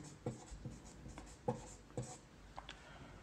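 Chalk or marker writing on a board during a Hindi-language maths lesson on Indian currency, heard as a few quiet, separate taps and strokes spaced irregularly, with no talk over them.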